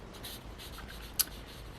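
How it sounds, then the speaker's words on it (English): Carbon paper pressed under a pen or stylus while an image is traced onto an old book page for a junk journal, a soft continuous scratchy rubbing, quiet and close, with one brief sharper tick partway through. "copy it with carbon paper."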